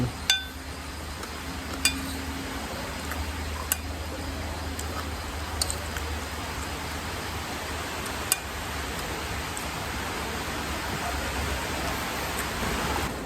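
Steady rain falling, a dense even hiss filling the whole stretch with a few sharp drip-like ticks scattered through it, no voices.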